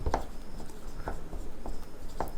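A pen writes a math solution by hand, scratchy, close strokes with a few sharper taps spread unevenly across the moment, fairly quiet, with no voices.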